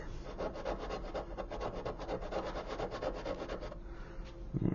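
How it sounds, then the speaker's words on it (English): A medium-grit sanding stick rubs across the superstructure of a 1/200 scale model of the destroyer USS Curtis Wilbur, giving a steady close scratchy back-and-forth rasp that runs throughout with no talking. "we'll follow along with the more medium grit side of this sanding stick"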